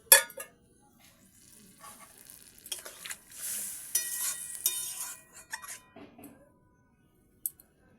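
Water poured into a pan of browned chicken sets off a burst of hissing sizzle that flares loudly, then settles into softer crackling and bubbling before fading out.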